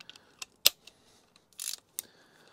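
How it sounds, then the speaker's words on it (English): A 30mm socket tightens an electric anode into a hot water heater, producing a few sharp, close metallic clicks and ratcheting snaps spaced irregularly over quiet. "so to tighten it, you can either use an open-end wrench, inch and 3/16 socket, or I'm gonna use this 30mm socket here"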